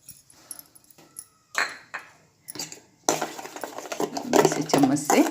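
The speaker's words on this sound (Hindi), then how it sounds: "इसे चम्मच से मिक्स करूँगी।" A spoon stirs a kulfi mixture with added dry-fruit powder of almond, pistachio and cashew, giving light clinks and scraping taps in short bursts, then a denser, louder stretch of rapid clattering and mixing near the end.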